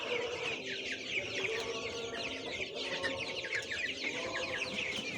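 A flock of young White Tiger breed chickens clucks and chirps close by. The overlapping calls are busy and continuous over faint farmyard background, with no speech.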